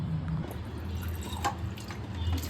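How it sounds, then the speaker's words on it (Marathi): Water splashes and trickles while a plastic drinking bottle is rinsed clean of foam, with light drips and small pouring sloshes at close range and no talking. "हे बॉटल एकदा क्लीन करून बघू याच्यात फेस का झालं"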